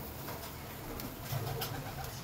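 A pet pigeon coos softly beside its feeding tray, a low murmuring call rising briefly over a faint steady background hiss.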